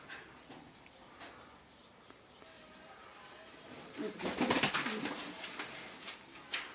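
Soft pigeon coos rise over a quiet outdoor background, growing busier and louder toward the end with a few light knocks.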